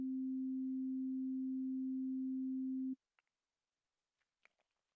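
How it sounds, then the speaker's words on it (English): A synthesizer sounds a single pure fundamental tone with no added harmonics, steady and loud for about three seconds before cutting off abruptly, followed by a few faint clicks. "I'm going to use a synthesizer to show you how the overtone series of a sound affects its timbre"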